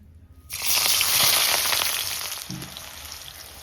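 Sliced onions dropped into hot oil to fry for biryani birista, a sudden loud sizzle bursting in after brief quiet, then a steady close crackling hiss with a small clink partway through.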